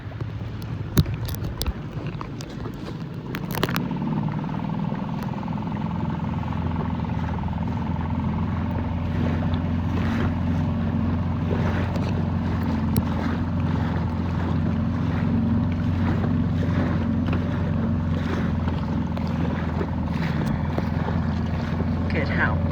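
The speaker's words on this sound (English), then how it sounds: "Let's get the dinghy, which is right there." A small dinghy motoring across open water near Ocean Beach on Fire Island gives off a steady outboard engine drone with low rumble and wind buffeting, starting after a few seconds of handling noise and continuing evenly throughout.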